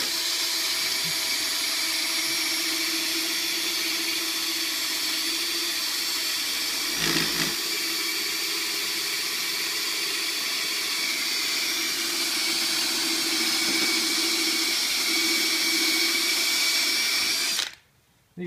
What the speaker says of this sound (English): hold the drill and put a light pressure in there and run it at medium